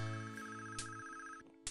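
A phone rings in Police Quest I, a bright electronic trill with two short bursts and a steady tone, close and clear with no voices.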